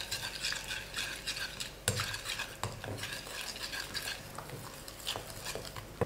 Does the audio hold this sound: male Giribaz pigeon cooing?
no